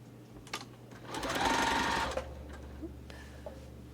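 Sewing machine stitching a pieced pinwheel star quilt block, a short burst of fast, even needle whirring heard close, framed by quieter handling clicks before and after.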